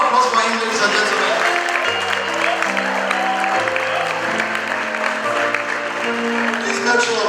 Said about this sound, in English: A round of applause for him, ladies and gentlemen.